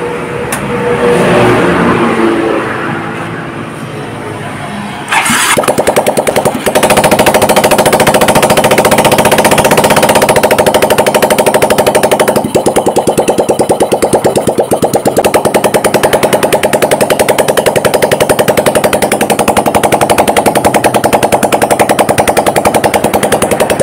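A Yamaha Mio M3 scooter that is hard to start gives a short noisy burst, then its engine fires and runs in a loud, rapid, rattling idle close to the microphone for most of the clip.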